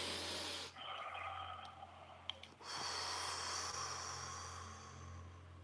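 A slow deep breath taken close to the microphone, a soft airy hiss drawn in and let out over a few seconds against a steady low hum, with no speech.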